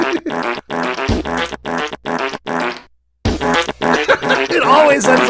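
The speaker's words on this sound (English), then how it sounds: "It always ends up in farts." Fart noises played in rapid bursts, a buzzy rhythmic series of loud blats with a brief silent gap, then more, close and prominent with laughter or voices mixed in.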